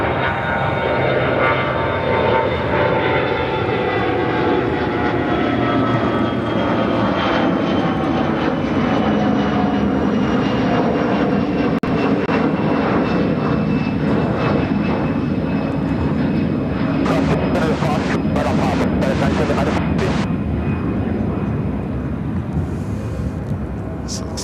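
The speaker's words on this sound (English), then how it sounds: "Have another Air Wisconsin CRJ 200LR taking off to Montreal," An Air Wisconsin CRJ-200LR regional jet taking off from O'Hare, a loud, steady engine roar with whining tones that slowly fall in pitch, and faint talk now and then.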